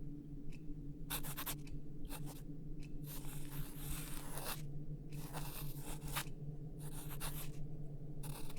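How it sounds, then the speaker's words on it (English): Pencil sketching a face on paper, repeated close scratchy strokes in short bursts and one longer shading pass, over a steady low background hum, with no talking. "I do need just one more sketch of your face, just to make sure I get all the features right."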